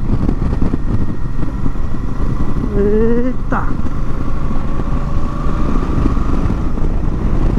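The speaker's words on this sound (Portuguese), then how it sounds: "Cara, a moto anda bem, viu?" A Royal Enfield Super Meteor motorcycle rides on the Interlagos race track, its engine a steady loud drone mixed with heavy wind rush throughout, with a brief rising whine partway and a short exclamation from a rider.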